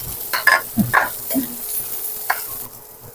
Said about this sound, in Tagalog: gigisa tayo ng bawang. Isunod na natin yung sibuyas